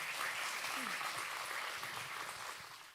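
Seminar audience applauds to welcome a church care and education speaker, steady dense clapping from a room full of people that holds for about three seconds and then begins to fade.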